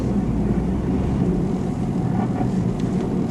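A constant low hum and road roar from a worn rear wheel bearing on a 2000-2005 Dodge Neon while driving, heard as a brief steady drone with no talk.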